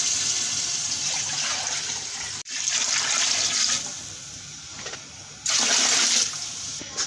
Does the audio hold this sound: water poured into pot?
yes